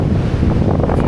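Ocean waves surging and breaking on an island beach, a steady loud wash of surf close by with heavy wind buffeting the microphone throughout.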